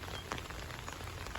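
Steady rain falls on a garden on a spring morning, a soft continuous patter of drops with no voices, even in level from start to finish.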